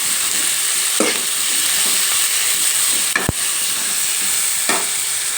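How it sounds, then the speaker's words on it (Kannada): Chopped tomatoes frying in a pan for a cabbage palya, a loud continuous hissing sizzle with a few sharp stirring knocks and scrapes, no voices. "ನಾವು ಕಟ್ ಮಾಡಿ ಇಟ್ಕೊಂಡಿರ್ತಕ್ಕಂಥ ಟೊಮೆಟೊವನ್ನು ಹಾಕ್ಕೊಳ್ಬೇಕು. ಅದನ್ನು ಸಹ ಫ್ರೈ ಮಾಡ್ಕೋಬೇಕು."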